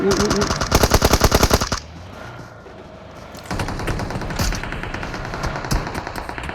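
Rapid automatic gunfire in the mobile shooter PUBG Mobile, fired from above: loud sustained bursts at the start, a brief lull, then renewed shots with scattered single cracks and faint voices.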